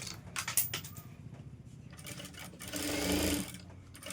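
Sewing machine stitching an elbow puff sleeve, bursts of quick rhythmic needle chatter starting and stopping, with a louder sustained run near the end, close and clear with no talking.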